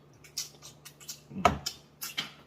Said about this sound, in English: I dropped that bone, don't worry about it.